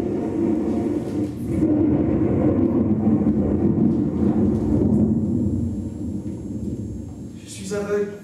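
Thunder sound effect in a stage play, a loud sustained low rumble rolling for several seconds, with a voice heard briefly at the end.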